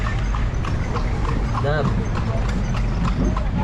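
Horse hooves clip-clop on the street as a horse pulls a tartanilla carriage in Cebu, a steady rhythmic clatter beneath close chatter from riders.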